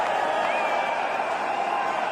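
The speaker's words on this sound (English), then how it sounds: "The crowd finally getting into it." Cricket stadium crowd at an India vs Australia match cheering a boundary: a dense, continuous roar of many voices with a thin whistle rising above it, steady and fairly loud for the whole stretch.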